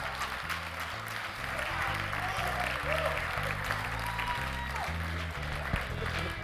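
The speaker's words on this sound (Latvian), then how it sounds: "Sagaidām ar aplausim." Audience applause, a sustained wash of clapping from a crowd at a live event, steady and fairly loud over a bass-heavy music bed.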